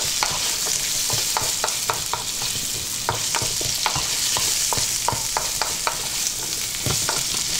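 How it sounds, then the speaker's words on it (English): Sliced Chinese pork sausage stir-frying in a hot pan, a steady sizzle with repeated sharp scraping clicks of a utensil tossing the pieces, close and continuous with no talking. "Again, throw that around in the pan."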